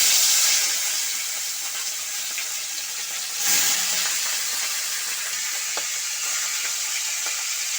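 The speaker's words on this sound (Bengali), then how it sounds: "তো এবার মাছের মাথাগুলো দিয়ে ভালো করে ভেজে নেব।" Fish heads fry in hot mustard oil in a wok, a continuous loud hissing sizzle with a brief surge as more pieces hit the oil, steady and close with no talk.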